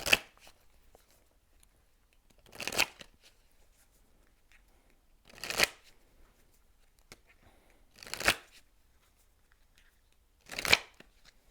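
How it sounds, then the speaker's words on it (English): A deck of oracle cards is shuffled in five short, crisp riffling bursts spaced evenly about every few seconds, close and clear, with near silence in between. "I'm going to pull, just make it easy, from the Messages of Love Oracle cards for you"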